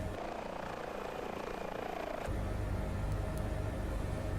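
An emergency medical helicopter in a flight simulator game gives off a steady, droning rotor and turbine roar. The drone shifts slightly in tone partway through but stays loud and unbroken, with no talking.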